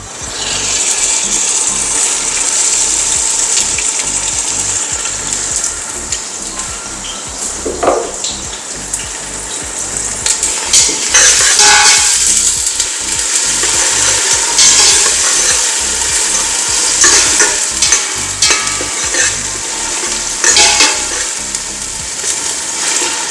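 Onions with ginger and garlic paste sautéing in a pan give off a steady, loud sizzle that runs without a break, with occasional stirring scrapes and clinks rising over the frying hiss.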